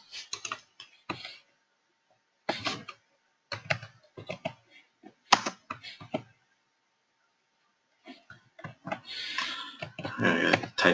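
Computer keyboard typing in bursts, with short runs of clicking keys separated by pauses, ending in a faster, denser flurry of keystrokes; close and fairly quiet with no talking.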